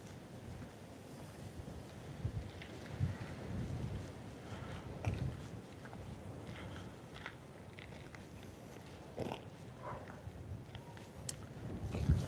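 Gusty wind buffets a muffled microphone outdoors on open tracks at a Scottish Power wind farm, a steady low rumble with sharper gusts swelling and fading throughout, with no talking.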